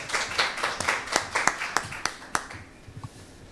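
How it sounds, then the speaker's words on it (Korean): Audience at a Korean legal research institute academic conference claps to welcome the director's opening address, a light scattered round of distinct hand claps that thins out and fades toward the end. "큰 박수로 환영해 주시면 감사하겠습니다."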